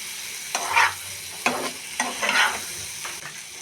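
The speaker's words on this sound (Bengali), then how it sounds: "আলু দিয়ে একটু নেড়ে নেব।" Potatoes stirred into spice paste frying in a pan for fish curry, several distinct scraping stirs over a soft, continuous sizzle, close and fairly quiet.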